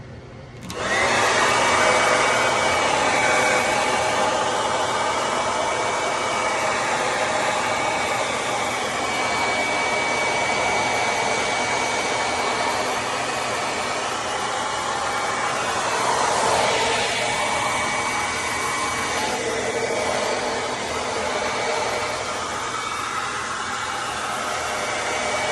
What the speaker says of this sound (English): I usually blow dry my face on cool.